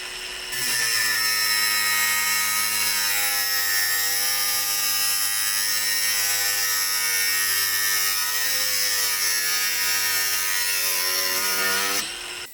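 A ProCraft Industrial AG 125C angle grinder cutting, a loud, steady high-pitched whine with a strong harmonic hum that holds for about eleven seconds before cutting off, with no talk over it.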